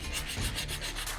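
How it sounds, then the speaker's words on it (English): Steady abrasive sanding on a rust-treated Mazda Miata rear body panel being repaired, a continuous close rubbing scrape with a faint rhythmic back-and-forth pulse and no voices. "Then more sanding,"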